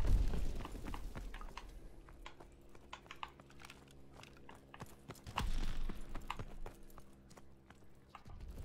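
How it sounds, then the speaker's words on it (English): Footsteps in Call of Duty WW2 multiplayer, a run of quick, sharp taps at close range with a low rumble partway through. "I can hear footsteps"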